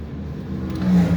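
Car driving on the road from Kamianske to Berehove, a stretch in need of repair, with a steady low engine and tyre rumble that swells slightly toward the end, close and continuous.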